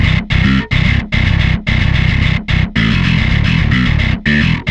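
Bass guitar run through a Darkglass Ultra distortion blended with a cleaner low track plays a choppy, pulsing riff, thick and gritty with short gaps between loud, driven phrases.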